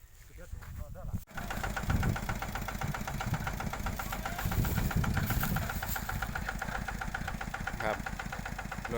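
A farm vehicle engine starts and then runs steadily near the microphone on a field being covered with straw, a chugging, rattling drone that stays loud throughout, with voices faintly underneath.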